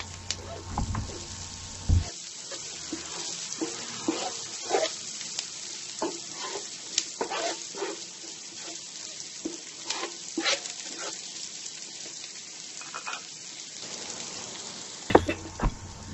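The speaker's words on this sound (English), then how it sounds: "We just added in our garlic." Garlic frying in a pan for braised tofu, a soft crackling sizzle with scattered pops and stirring scrapes, ending with a louder clatter near the end.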